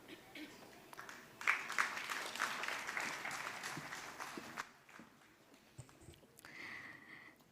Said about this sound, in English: Let's have a round of applause once again